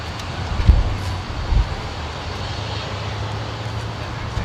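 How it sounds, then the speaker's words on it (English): A United Boeing 777 at Sydney Airport powering up on its takeoff roll, heard as a distant low engine rumble mixed with wind buffeting on the microphone and a couple of brief thumps. "Time for the United 777. On takeoff, roll. Power up."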